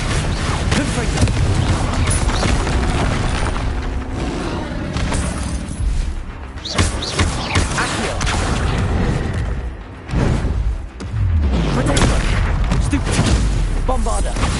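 Repeated Confringo blasting curse explosions in the PS5 game Hogwarts Legacy boom and crash one after another through heavy spell-combat noise, loud and continuous with brief dips, while a voice calls out spells.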